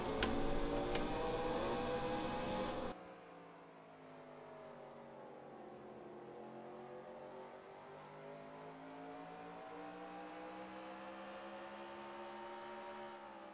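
Onboard engine of a modified race car lapping Thompson Speedway under green, a steady loud drone with rising and falling pitch through the lap, preceded by a brief louder burst at the start; no talk.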